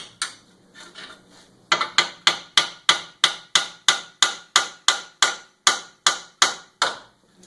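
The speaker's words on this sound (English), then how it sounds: "I'm just going to use a household hammer, is what I have, and tap these two out of here." A household hammer taps metal in a steady run of about sixteen sharp, evenly spaced strikes, close and clear, after a few quieter knocks, while replacing a Mitsubishi Outlander CV axle.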